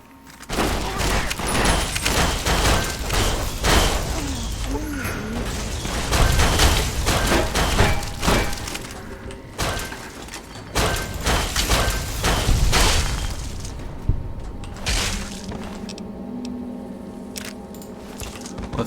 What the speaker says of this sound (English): And then the gunfire ensues.